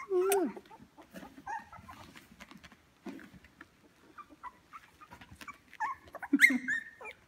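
Three-week-old puppies whimper and whine close by in short, high, irregular cries, with growly squeaks mixed in, while a person speaks softly now and then.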